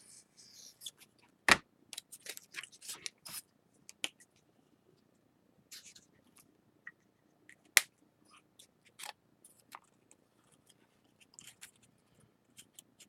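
Scissors trim material for stairs in a build, making a quiet, sparse series of crisp snips and clicks, with a couple of sharper cuts standing out against near silence.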